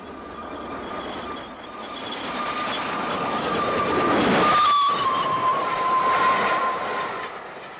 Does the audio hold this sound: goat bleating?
no